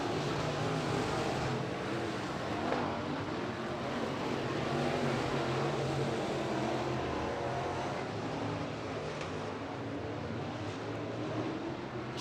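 IMCA Modified race cars roar through a dirt-track heat race at Skagit Speedway, a continuous broad engine drone heard from the grandstand at some distance, steady and unbroken.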